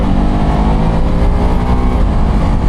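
A BMW F450 GS motorcycle pulls hard in second gear, its engine note a loud, continuous, close roar with steady wind rush and no pauses.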